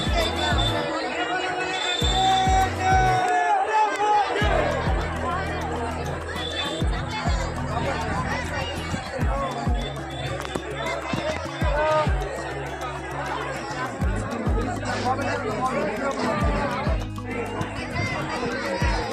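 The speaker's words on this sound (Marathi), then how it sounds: "ही भरपूर गर्दी" Dense chatter from a large crowd at a busy Mahadev temple in Jategaon around four in the afternoon, many overlapping voices forming a steady hubbub with occasional louder calls and laughter.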